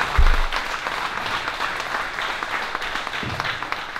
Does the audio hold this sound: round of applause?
yes